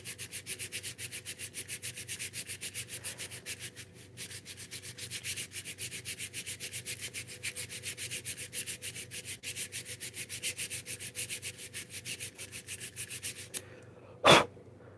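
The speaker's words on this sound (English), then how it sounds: "I don't think I'm getting very far with the sandpaper" Sandpaper rubs steadily across the body of a headless bass guitar being repaired, a close, even rhythm of rapid strokes that stops briefly midway, then ends with a single sharp knock.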